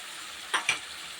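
Turmeric and spice paste frying in a pan, a steady soft sizzle with two brief sharper bursts as the paste hits the hot oil, close and fairly quiet.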